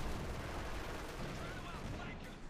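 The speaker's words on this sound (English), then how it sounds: "taking fire from the Ostwind" Ostwind anti-aircraft tank firing in Company of Heroes 2, a dense continuous clatter of rapid gunfire and battle noise that fills the whole short stretch before easing off at the end.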